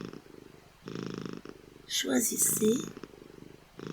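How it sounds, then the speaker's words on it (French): A cat purring in slow, regular pulses, each breath cycle a soft rumbling burst with brief gaps, close and fairly quiet, while someone speaks French gently over part of it. "respirant sur le rythme des ronronnements"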